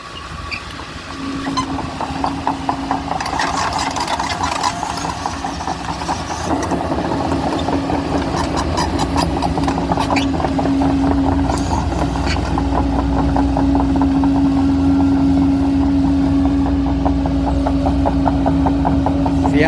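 A Kobelco SK140LC excavator's diesel engine runs steadily at close range, a continuous droning hum with a sustained tone that grows slightly louder partway through, with no talking.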